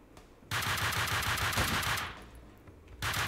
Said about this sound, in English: Are you shooting at my boy, Max?